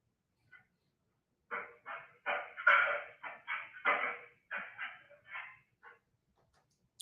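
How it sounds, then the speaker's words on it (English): A dog gives a run of about a dozen short whining, yelping cries in an irregular rhythm, moderately close, with brief silences between them. "Is that a dog making noise?"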